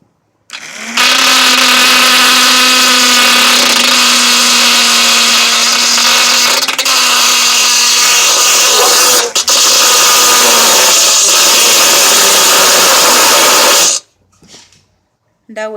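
A small jewelry drill whines steadily at close range for about thirteen seconds as it bores into a metal piece, holding a constant pitch with a few brief dips, then cuts off abruptly.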